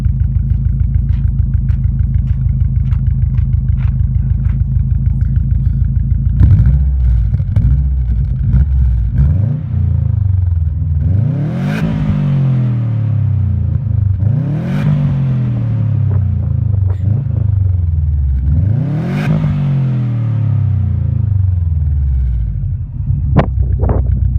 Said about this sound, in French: un des plus magnifiques bruits de voiture que j'ai entendu